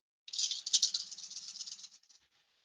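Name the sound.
rolling a pool of seven dice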